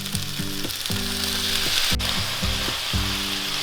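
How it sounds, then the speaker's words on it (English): Vegetables cooking in a marinade in a pan, a loud close sizzle running steadily under repeated low humming tones and one sharp click midway. "The veggies have been cooking for like 5 minutes, so we're gonna cook them the remainder of the time in the marinade."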